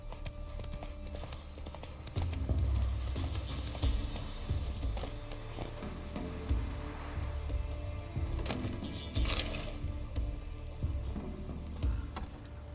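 Horse hooves clopping steadily at a riding gait in The Witcher 3: Wild Hunt, with an even rhythm held up close over background game ambience.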